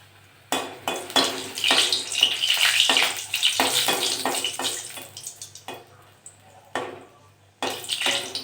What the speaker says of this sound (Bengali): তেলটা গরম হয়ে গেছে, কটা শুকনো লঙ্কা ভেজে নেব।